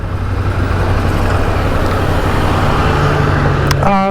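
A Ducati Monster motorcycle with a 659cc engine cruises on an open road, its engine and wind noise making a steady, loud rumble throughout, with a brief higher whine near the end.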